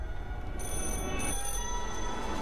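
A telephone rings inside a video game, with steady, bright electronic ringing tones held over a continuous low game background and no talking.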